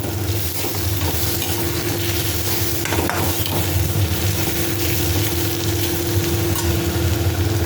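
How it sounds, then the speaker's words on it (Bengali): Sliced potatoes sizzle in a pan of oil while being stirred, a constant close crackling hiss with occasional scraping and clinks of the utensil, no voices. "দেখো আলু ভাজাগুলো আমার কত সুন্দর লাগছে।"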